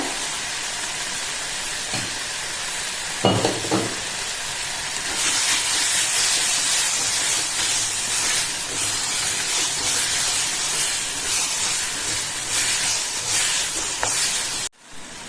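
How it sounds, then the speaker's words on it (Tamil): Tomatoes sautéing in hot oil with a pinch of salt give off a loud, close hiss and sizzle. A couple of brief clatters come early, then the sizzle swells and carries on steadily until an abrupt stop near the end. "எண்ணெயிலேயே தக்காளி நல்லா வதங்கிடுது"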